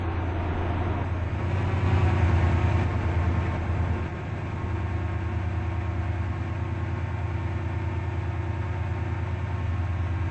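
A Class 68 locomotive on a Stepford Connect service in the SCR train game, a steady low diesel drone and rumble that swells briefly then settles into an even hum, with no voices.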